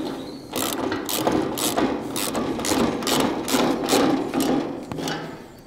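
Ratchet tightening gas strut fittings on an Ifor Williams trailer: a steady series of quick, sharp clicking strokes, close and moderately loud, with no talking.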